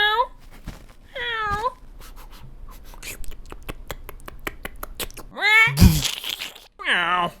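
A voice imitates a cat's meow several times, with bright, rising-and-falling mewing calls spaced apart between soft clicks and background talk, including a louder burst near the end.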